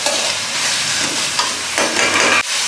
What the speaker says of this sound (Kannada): ಸೊ ಇದೊಂದು ಸ್ವಲ್ಪ ಚೆನ್ನಾಗಿ ಫ್ರೈ ಆಗಬೇಕು.